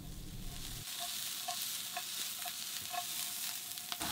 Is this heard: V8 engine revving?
no